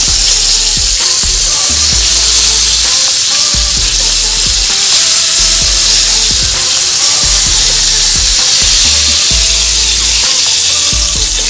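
Honey soy chicken necks sizzle and fry steadily in a pan, a loud continuous crackle with occasional stirring knocks, no talk over it.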